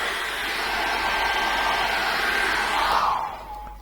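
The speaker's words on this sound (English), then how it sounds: "What we could do now is get the hairdryer and dry that off again." A hair dryer drying acrylic paint blows with a steady, close airy roar for about three seconds, then its pitch drops as it powers down.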